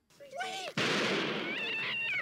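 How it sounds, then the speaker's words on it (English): In a Police Academy movie scene, a cat cries briefly before a sudden loud gunshot, and a harsh, sustained yowl and noisy commotion follow close up. "I think you just shot that cat."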